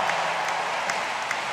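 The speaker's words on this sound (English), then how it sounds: "What a crowd reception there for the Germans." A stadium crowd at the Berlin 2018 men's javelin final applauding German thrower Andreas Hofmann, a dense, steady wash of clapping and cheering from a large distant crowd.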